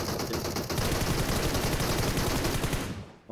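Loud, sustained automatic gunfire in PUBG Mobile, a dense rapid burst of shots running almost without pause before cutting off near the end, followed by a brief quieter tail.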